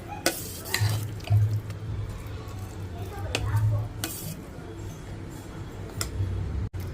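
Curd rice being stirred together with butter, giving soft wet clicks and scrapes of a spoon through the rice, with a low steady hum underneath and no talking.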